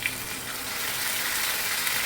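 Dried red chilies and cumin seeds sizzle in hot oil with a dense, even, close-up frying hiss that holds steady throughout.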